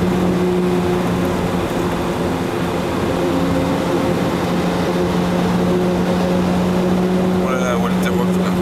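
A car accelerates hard at full throttle on the Nürburgring, its engine a loud, steady roar with a strong low drone, heard from inside the car under excited talk.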